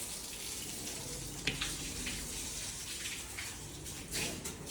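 A steady spray of water from a hose washing a Royal Enfield Bullet motorcycle hisses throughout, with occasional splashes and knocks, fairly close and without talk.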